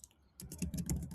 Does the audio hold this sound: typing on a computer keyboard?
yes